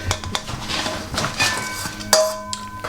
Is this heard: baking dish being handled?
yes